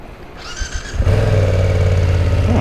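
A 2020 BMW F900R motorcycle cranks briefly, catches, and settles into a loud, steady, close-up engine idle with no talk over it.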